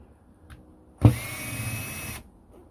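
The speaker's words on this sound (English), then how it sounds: "No, you have to unscrew them." A power drill unscrews screws from a wheelbarrow in one loud burst of about a second, whirring steadily close by after a sharp start, with quiet moments before and after.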